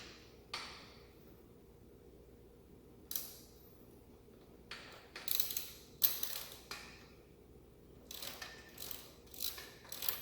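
A 10 mm deep socket on an extension ratchets a bolt loose during a seat install on a 2021 Indian Scout Bobber Twenty, giving close, irregular bursts of mechanical clicking separated by quiet pauses.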